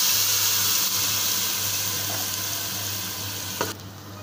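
A ground paste of fried onion, tomato, garlic and ginger sizzles in a pan for a potato egg curry, with a steady frying hiss and a faint stir near the end.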